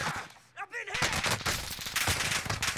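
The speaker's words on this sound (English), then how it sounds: "Who's shooting me and where?" Rapid gunfire in the Warzone video game, a dense stream of automatic shots crackling throughout, loud and close, with a brief voice near the start.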